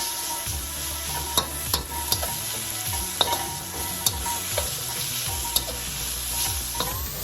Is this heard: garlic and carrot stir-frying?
yes